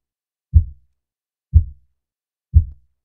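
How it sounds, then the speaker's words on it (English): Heartbeat coming from a claymation drawing in the video game Endacopia: three deep, soft thumps spaced evenly about a second apart, each fading quickly into silence. "Drawings are not supposed to have heartbeats."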